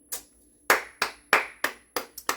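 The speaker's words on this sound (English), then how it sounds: "I'm just clapping for myself" One person clapping alone, seven or eight sharp, separate claps close to the microphone in an uneven rhythm with quiet gaps between them, and no one talking.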